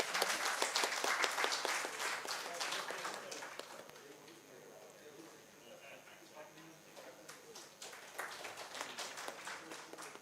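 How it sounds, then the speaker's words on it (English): A ceremony audience at the 95th NASI Annual Session at IIT Guwahati claps in a dense, sustained round of applause. It is loudest at the start, eases through the middle and swells again toward the end. "Can we please have a huge round of applause?"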